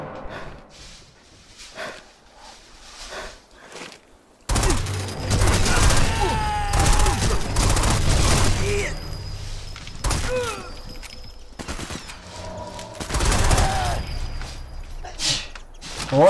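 Automatic rifle fire in Sniper Elite 4: loud, rapid bursts of shots that open abruptly after a quiet stretch with a voice, then several further volleys with short pauses between them.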